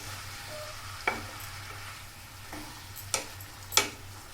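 Broad bean curry with tomato and chopped coriander being stirred in a pan, a steady low frying hiss broken by a few sharp scraping strokes of the spoon, near and alone.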